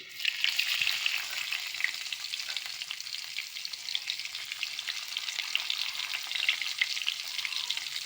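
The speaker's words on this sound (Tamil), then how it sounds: "எண்ணெய் காஞ்சோன்னா சோம்பு போட்டுக்குவோம் சோம்பு குறைஞ்சோன்னா பூண்டு" Fennel seeds and garlic frying in hot oil, a steady, bright crackling sizzle that holds at an even level throughout, close and continuous with no voices.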